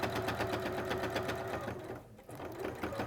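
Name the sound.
sewing machine stitching fabric layers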